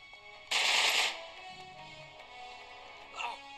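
A short burst of video game gunfire from Uncharted 3, lasting about half a second over a low background of game sound, followed by a fainter shot later.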